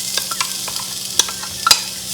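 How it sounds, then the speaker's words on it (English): Chopped onions and Swiss chard stems frying in olive oil in a pan, giving a constant crackling sizzle broken by several sharp stirring clicks and scrapes, close, with no voices. "So I'm gonna start with my onions and the chopped up stems first in my pan."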